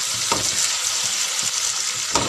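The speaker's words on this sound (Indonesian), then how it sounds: "Ini saya tomatnya goreng dulu soalnya biar cepat empuk" Tomatoes fry in an oiled pan with softened aromatic onions for an eggplant sambal, giving a steady close sizzle with a few soft stirring scrapes throughout.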